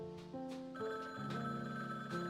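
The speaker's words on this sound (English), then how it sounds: "now the phone's ringing" Telephone ringing in the video game Frog Detective 2: a close electronic ringtone sounding in several quick pulsed bursts over about two seconds, alone and clear.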